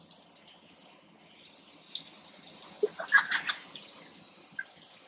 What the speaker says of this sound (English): Turning up the water right now.